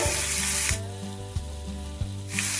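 Bottle gourd dropped into hot oil with black cumin seeds and green chillies, a loud bright sizzle that surges at the start and again at the end, with a few clear stirring clinks in between.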